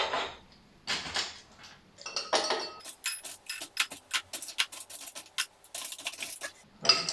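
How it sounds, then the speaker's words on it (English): Ice cubes clatter into a glass while an L.A. iced tea cocktail is being made, with a quick series of sharp clinks and rattles, some scooping rubs between them, close and fairly quiet. "we're gonna start filling our glass with ice"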